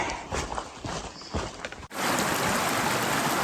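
A stream on the Appalachian Trail, first with footsteps crunching beside it and then a steady, close rush of flowing water.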